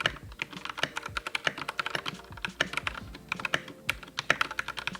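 Rapid typing on an Anne Pro 2 compact mechanical keyboard with stock, unlubricated switches, a dense run of sharp, clacky keystrokes with uneven rhythm, close and fairly loud with no voices.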